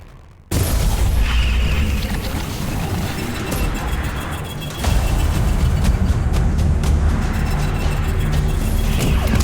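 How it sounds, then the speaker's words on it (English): Enemy projectile fire in the sci-fi combat game Luna Abyss: a loud, continuous barrage of booming blasts and crackling impacts that swells further midway through. "you can see that all the enemies shoot projectiles that the player has to kind of dodge and avoid"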